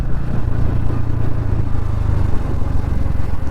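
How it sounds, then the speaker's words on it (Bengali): Motorcycles ride along a road, a loud, close, rumbling engine drone that rises and falls steadily throughout with no talk. "তারা বাইক স্লো করছে কি করে বুঝতে পারছি না, কেউ স্লো করছে আবার স্পিড করছে"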